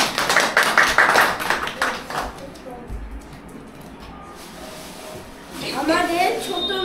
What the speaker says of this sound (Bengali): রিকের জন্য আরেকবার হাততালি।